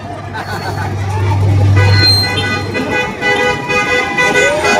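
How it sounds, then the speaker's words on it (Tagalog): A car horn blares in a sustained honk over busy street traffic and the chatter of a political rally crowd, with more horn toots sounding afterward. "Ayun, busina. Busina para sa bayan."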